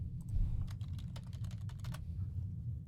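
Computer keyboard typing of Photoshop shortcuts: a quick run of light key clicks in irregular bursts, close and alone over a low steady hum.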